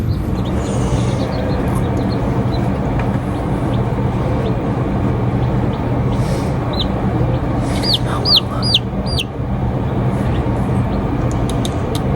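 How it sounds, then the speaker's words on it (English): Little chicks in an indoor pen at a school give rapid high cheeps and clucks that cluster in short bursts over a loud, steady background rumble. "I look at those little chicks"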